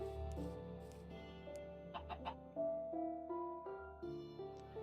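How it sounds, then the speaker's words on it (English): Chickens clucking and shuffling about in Minecraft, short bird calls over a steady tonal background with several brief bursts, moderately loud and close. "The chickens moving is the same sound as fire burning."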